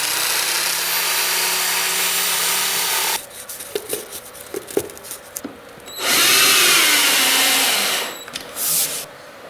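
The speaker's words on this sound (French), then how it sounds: "perce des trous adéquats avec la perceuse" A power drill bores fixing holes for skirting board clips during laminate flooring installation, a loud steady whir that stops, followed by scattered knocks and handling noise, then a second burst of drilling, close and with no talk.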